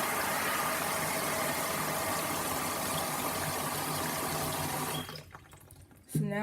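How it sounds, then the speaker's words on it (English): Water poured into a large bowl for soaking Orbeez, a steady broadband rushing splash lasting about five seconds before it stops and leaves a quieter tail. "And pour the water into the bowl."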